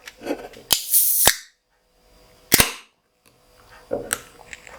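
Sharp metallic clicks and a crisp hiss as the cap pops off a bottle of Rogue Dead Guy Ale, followed by a second short fizzing burst, close and clear with no talking.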